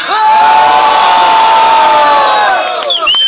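A packed crowd at a street rap battle roars and cheers for a rapper, loud and sustained for about three seconds before a few shouts trail off.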